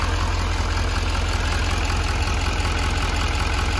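A Chevy Silverado 2500HD with a 6.6L Duramax diesel idles steadily, a dense low rumble with a fast even pulse, close and constant with no voices.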